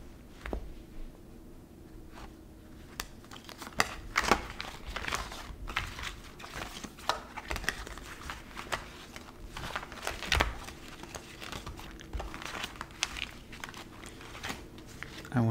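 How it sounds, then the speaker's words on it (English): Tarot and oracle cards shuffled by hand at close range, a steady run of soft papery riffles, flicks and crinkly taps without a clear rhythm, with faint speech around it. "I'm going to shuffle, and we will begin"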